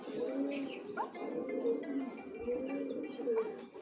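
A female silver racer pigeon cooing close by, repeated low, rolling coos in a steady rhythm, each a few seconds apart, with faint chirps in the background.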